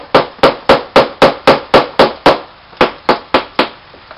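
Metal strikes metal in a steady run of about fourteen loud, sharp blows from a beat-up crescent wrench used as a hammer while assembling a gas burner, evenly paced with one brief pause near the middle.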